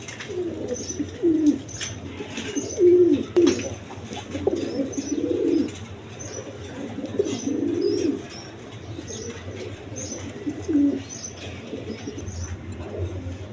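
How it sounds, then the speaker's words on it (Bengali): A pair of Teri pigeons, a crested male and a plain-headed female, coo in low repeated rolling phrases close by, with occasional wing flutters and faint chirps from other birds. "দর্শকবৃন্দ, এখানে এক পেয়ার কবুতর আছে"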